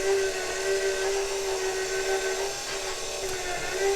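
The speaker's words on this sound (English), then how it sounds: "It's a strong motor, and obviously there are mixers that handle this kind of stiff dough" A strong stand mixer motor kneads stiff bagel dough with a steady, continuous whine and hum that stays loud and even throughout, with no voices.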